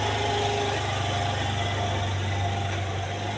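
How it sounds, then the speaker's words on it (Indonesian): A small motorcycle engine idles close by at a parked stop, a steady, even putter with a faint higher whine running throughout and no one speaking. "Ada motor guys"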